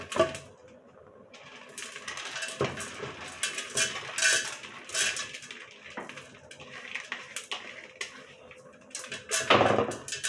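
Washed peas tumble into a cooking pot for pea soup, giving a run of close, rattling clatters and knocks against metal with a few sharper clinks near the end, with no talk.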